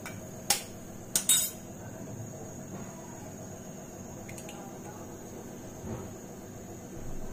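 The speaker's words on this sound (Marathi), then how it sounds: "आता मी त्याच्यात अंडी फोडून घालते" Eggs are cracked into a boiling egg curry, giving a few sharp taps and clicks against a pot over a low steady background hiss, with quieter small knocks afterward.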